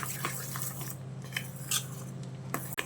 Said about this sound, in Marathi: अगदी पाच मिनटं आपल्याला हे छान फेटून घ्यायचं आहे